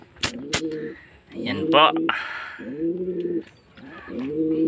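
Pigeons in a loft give repeated throaty coos in slow rhythmic phrases, close and clear, while someone speaks briefly over them.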